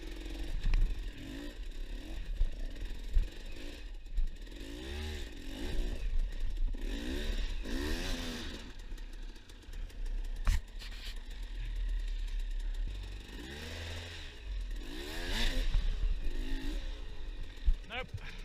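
An enduro motorcycle labors up a steep hill climb, its engine revving in uneven bursts at moderate distance, with clattering and a person talking over it.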